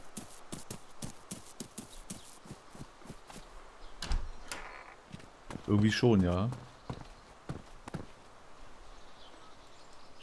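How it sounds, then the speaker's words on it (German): Footsteps in the DayZ video game thud in a regular, fairly close rhythm, then scuff more sparsely while someone speaks briefly over them. "Ich hör Schritte, bist du das?"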